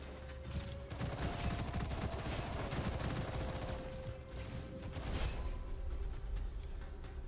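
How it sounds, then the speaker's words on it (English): Machine gun fire in the video game Metro: Last Light Redux, a dense continuous rattle of rapid shots with a dull mechanical hum underneath, heard alone without talk. "That was a machine gun."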